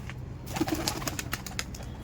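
Giribaj pigeons give a couple of short low coos close by, mixed with scattered clicks and shuffling sounds.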